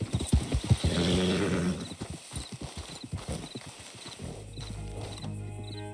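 A horse in the video game Red Dead Redemption 2 gallops with rapid, close clip-clopping hooves and neighs, the hoofbeats thinning out and fading as a low steady tone rises toward the end.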